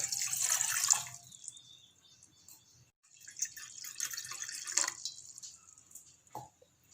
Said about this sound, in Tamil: வெயிட் லாஸ் ட்ரிங்க் செய்ய நான் ஒரு 400 மில்லி தண்ணி ஆட் பண்ணிக்கிறேன்